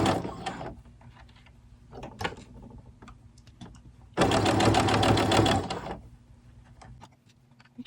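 Close, rapid whirring of a sewing machine stitching jersey knit doll clothes: a short burst at the start, then scattered clicks and fabric handling, followed by a louder run of about a second and a half.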